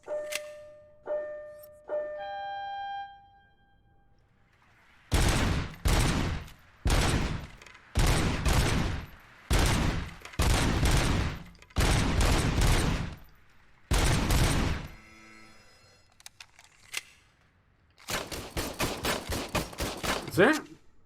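Gunfire rattles at a shooting gallery in the game RoboCop: Rogue City, loud bursts of rapid shots in repeated volleys separated by short pauses, ending in a fast stuttering string, with a few chimes at the start.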